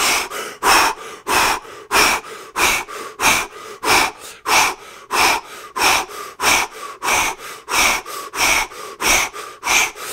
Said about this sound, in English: Breathing with the whole body.